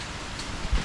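Rain falling outside a new house, a steady soft hiss of drops on surfaces filling the short stretch, with a brief low thump near the end and no talking.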